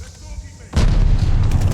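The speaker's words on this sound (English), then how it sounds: "they weren't kidding about the effects bomb. Holy fuck. Like it is. The explosion." Explosions and artillery fire in the video game Call of Duty: Vanguard, a sudden heavy boom followed by sustained loud rumbling blasts and crackling impacts, with quieter game audio before it.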